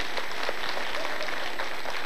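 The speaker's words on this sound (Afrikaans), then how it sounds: "ek dink jy verdien nog 'n lekker hande klap." An audience at a children's show gives a magician a round of applause, dense steady clapping from a small crowd that carries on evenly for a couple of seconds at moderate volume.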